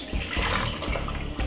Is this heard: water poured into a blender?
yes